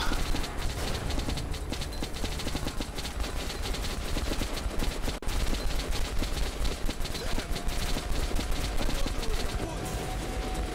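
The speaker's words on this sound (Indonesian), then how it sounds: "tembak mereka menggunakan minigun di posisi sekarang" A minigun rattles continuously in the video game Metro Last Light, a dense, loud, unbroken stream of rapid gunfire against enemies lasting throughout.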